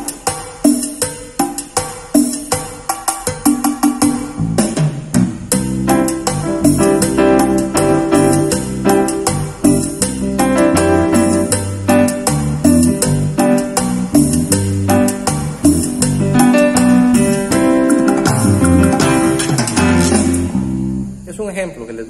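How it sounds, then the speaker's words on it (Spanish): A Korg EK-50 keyboard plays a cumbia style accompaniment with bass, a steady bouncing rhythm and layered chords and melody, loud and full throughout, with no talking. "En ese caso, mi cumbia suena así."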